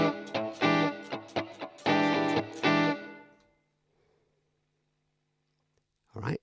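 Electric guitar played through a Nembrini amp simulator with a drive pedal: a few loud distorted chords and choppy stabs ringing for about three seconds, then a quiet hum and a brief new strum at the end.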